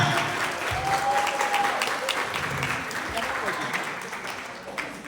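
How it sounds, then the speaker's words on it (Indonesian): Audience in a hotel function room applauds to welcome a speaker forward, steady crowd clapping with a voice talking over it. "Tepuk tangan semuanya."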